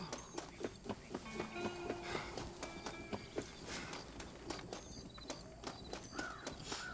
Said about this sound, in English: Let me see if I can get my horse over here.